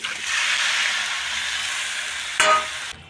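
Chicken pieces with onion and tomato being stirred in a hot frying pan for an Andhra chilli chicken curry: a steady close sizzle and hiss with a brief louder scrape of the spoon near the end, and no talking.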